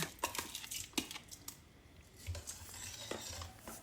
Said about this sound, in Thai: ขณะที่เราต้มก็จะคอยคนเรื่อยๆนะคะ เพื่อไม่ให้เม็ดข้าว ติดอยู่ที่ก้นหม้อค่ะ